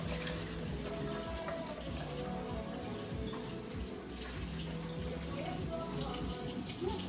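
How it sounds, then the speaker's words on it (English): A continuous soft splashing and trickling of hot broth being poured into a bowl, heard faintly and steadily throughout with no talking. "just put your broth in a different container or bowl."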